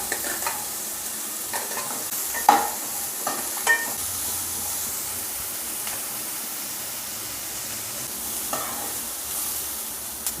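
Carrot and onion fry in a pan for a chutney, giving a steady, close sizzle with a few sharp stirring scrapes and clicks scattered throughout, and no talking.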